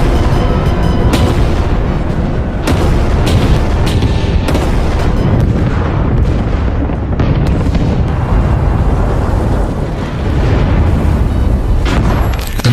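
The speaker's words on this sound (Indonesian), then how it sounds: "pasukan artileri Jerman mulai melakukan penyerangan bertubi-tubi" A German artillery barrage during Operation Barbarossa on the Soviet border, loud continuous booms and explosions crowding one another over a deep rumbling roar, relentless and dense throughout.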